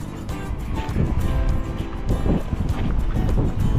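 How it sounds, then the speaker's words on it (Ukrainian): Strong wind roars and buffets the microphone in loud, rumbling gusts that come and go without pause, out on winter ice while fishing. "Вітер просто шалений"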